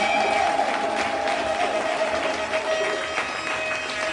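A church congregation applauds and cheers for Jesus, a loud, dense wash of clapping and crowd voices that stays fairly even and fades slightly toward the end.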